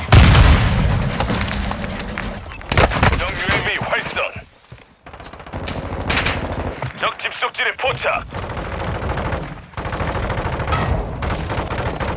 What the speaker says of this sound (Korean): 섬광 수류탄 투척